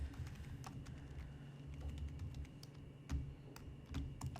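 Someone types a search query on a computer keyboard: faint, quick key clicks in an irregular rhythm over quiet room tone.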